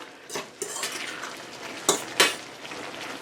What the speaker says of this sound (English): Just stirring, because what you're doing is you want it to thicken up and getting the flavor.